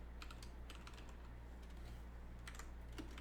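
Keys clattering on a computer keyboard while coding a Python game, irregular bursts of close, light taps over a low steady hum.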